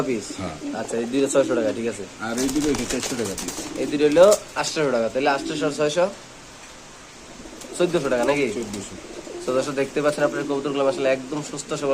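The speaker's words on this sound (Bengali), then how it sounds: "এখানে আছে একদম সিরাজি কবুতর সিলভার লাহরি কবুতর" Shirazi and Silver Lahore pigeons coo at a pigeon seller's stall, soft repeated coos running beneath near, continuous conversation in Bengali with a short pause midway.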